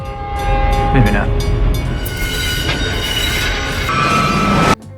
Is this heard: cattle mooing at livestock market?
no